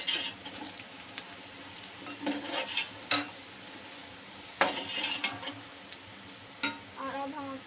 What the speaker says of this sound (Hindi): अब गरम मसाले को हम डाल के इसको 2 मिनट तक पकाएंगे।